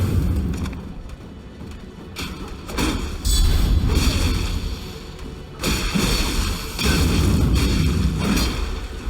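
Explosive bolt blasts in Elden Ring, several heavy booms and crashes in quick succession amid battle clatter, loud and close, surging in waves with rumbling low tails.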